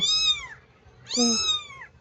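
A young kitten gives two clear, high meows in succession, close and loud, each drawn out and falling in pitch, with no talking.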